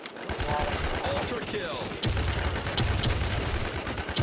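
Sniper rifle gunfire in a video game, with several sharp shots cracking out amid dense game noise and a voice talking over the action.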